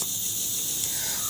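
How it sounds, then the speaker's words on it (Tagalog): A steady, dense chorus of crickets chirps at night, high and continuous with no breaks, over a soft low background. "Tanging ang huni ng mga kuliglig at simoy ng hangin ang maririnig."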